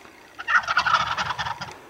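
A wild turkey gobbles once during a spring youth hunt, a rapid, rattling burst of about a second and a half, clear and moderately near against quiet woods.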